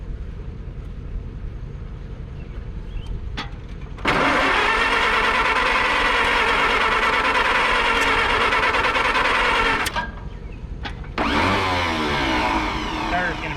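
An old Allis-Chalmers WD tractor engine is cranked with a starter in two loud, extended grinding bursts. Quieter rough noise fills the gaps between them, and talk is heard between the attempts.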